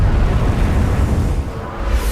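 Live Upkeep bouncing bomb exploding in a wartime test, a continuous loud, deep rumbling roar that fills the whole stretch, heavy and sustained with no voices.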